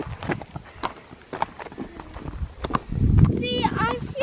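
Horse walking with hooves clip-clopping in an uneven rhythm, close by, while people talk over the steps and a brief rustle and low thump rise near the end.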